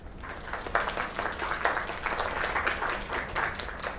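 A crowd applauds steadily, a dense wash of clapping from many hands holding at an even level for several seconds.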